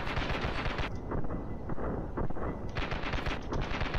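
Constant rattling gunfire in the Ravenfield battle game with mods, dense overlapping shots and booms filling the whole stretch, loud and close without pause.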